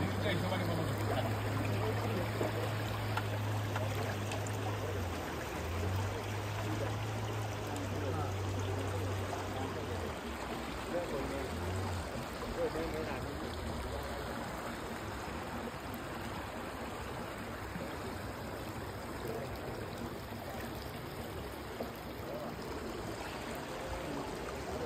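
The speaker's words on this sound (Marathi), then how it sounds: "त्या नाईल नदीचा फोर्स बघितला आपण, अतिशय जोरदार प्रवाह आहे." Strong, fast current of the Nile River at its source rushes in a continuous loud roar, with a low motor-like hum early on and faint talking in the background.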